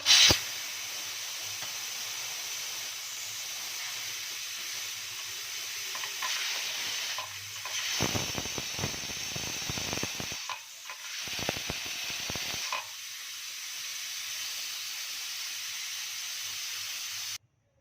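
Steam hisses steadily from a pressure cooker as its whistle is lifted after cooking whole moong dal, a loud continuous rush with sharper bursts partway through before cutting off.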